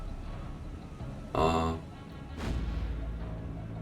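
Naval guns aboard warships such as HMS Warspite firing at the Zuyo in the War on the Sea game, two heavy booming salvos about a second apart over a rumbling sea-battle ambience.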